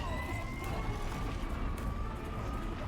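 Wailing sirens in the video game Horizon Zero Dawn, a loud steady wash of game noise with rising and falling siren tones running throughout and no clear talking.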